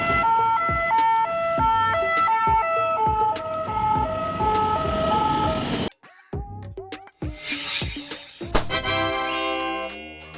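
A French ambulance siren, on a Renault Master, Peugeot Boxer or Mercedes-Benz Sprinter, sounds its two-tone alternating call loud and close, then breaks off into clatter before a different rising electronic wail starts up.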